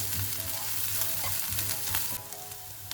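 Coriander and chilli powders sizzle as they are stirred in a frying pan for peanut chicken, a steady close crackle with soft scraping strokes throughout.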